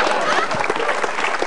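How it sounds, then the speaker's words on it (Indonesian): An audience applauds a stand-up comedian at the end of his set, a short burst of close, loud clapping from a crowd with a voice briefly mixed in. "Tepuk tangan untuk Semi Ratus Limboy"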